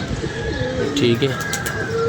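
Pigeons coo in soft, rolling calls close by, mixed with outdoor background noise, while someone speaks briefly over them.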